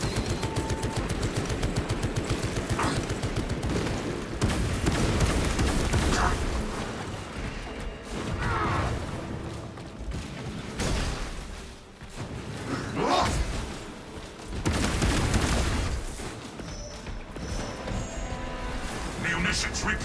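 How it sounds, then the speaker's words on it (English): Tarantula sentry gun in Space Marine 2 firing in repeated heavy bursts amid loud combat booms and explosions, with voices speaking over the battle. "Activating Tarantula sentry gun."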